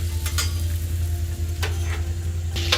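Potatoes fry on a griddle alongside bacon for a breakfast sandwich, giving a steady, close sizzle with a low hum underneath and a few brief scraping clicks. No one speaks.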